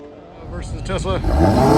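A drag racing car launches against a Tesla at a drift and drag event, its engine revving and rising in pitch over under two seconds, close and loud, with a person's voice briefly heard over it.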